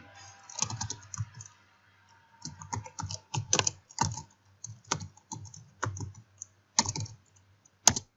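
Someone types on a computer keyboard in MS Word in short bursts of close, crisp key clicks separated by pauses, with no talking.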